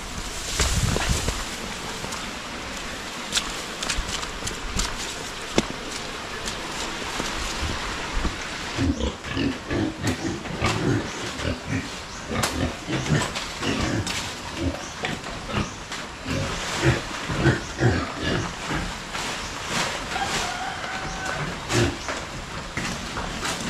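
Mother pigs on a farm grunt and snort repeatedly in an irregular series of close, rough bursts, with a hissing broadband wash running underneath throughout.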